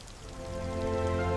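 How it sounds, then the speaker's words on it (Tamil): Cold rain beginning to fall in an animated children's story, a steady patter of raindrops that builds gradually from soft to fuller over a low tonal music bed, with no voices. "சட்டென்று குளிர்ந்த மழைத்துளிகள் பூமியை நோக்கி விழத் தொடங்கின."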